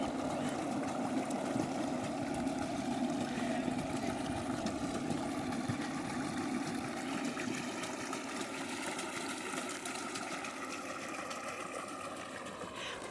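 A homemade amphibious motorbike built from waste materials drones steadily and unbroken as it runs in water, with a churning, splashing wash of water mixed in throughout.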